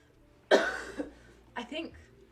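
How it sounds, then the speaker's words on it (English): A person coughs hard once and then a second, shorter burst follows, both close and fairly loud, in a quiet indoor room. "I don't know why I'm coughing so much"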